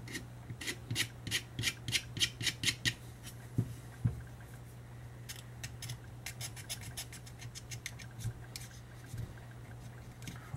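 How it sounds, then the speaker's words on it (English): Rhythmic back-and-forth rubbing of sandpaper on a tobacco pipe stem, in quick bursts with short pauses, over a low steady hum. "start doing a little sanding on it."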